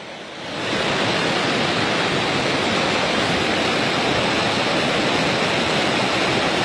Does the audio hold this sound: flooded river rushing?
yes